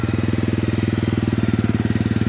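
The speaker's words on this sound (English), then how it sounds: "So the engine starts on its own." A TVS Ronin single-cylinder motorcycle engine, already started, idles loudly nearby in a fast, even, thumping rhythm through its exhaust, with no talking.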